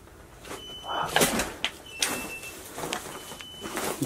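A door in an evicted rental property opens or shuts with a few sharp knocks and thuds, fairly close, over a noisy background with faint movement.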